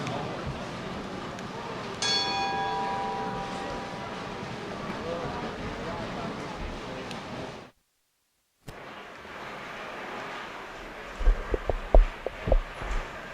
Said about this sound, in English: at the sound of the bell, you may begin your event